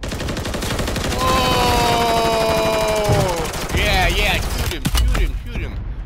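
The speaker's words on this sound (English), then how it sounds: "He was shooting me in my back." Rapid automatic gunfire in a video game, loud and continuous bursts with shouting voices over it.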